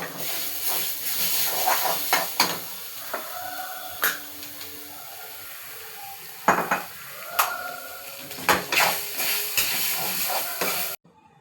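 Coconut being dry-roasted in a pan for a masala paste, with a faint hiss under intermittent sharp clinks and scrapes of a spoon against the metal vessel, stopping abruptly near the end.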